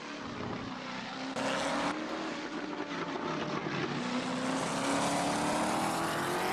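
Steve McQueen's Ford GT40 in Assetto Corsa, its engine roaring as it downshifts at Spa without automatic throttle blips, with a loud continuous rising drone and a brief burst of noise early in the run.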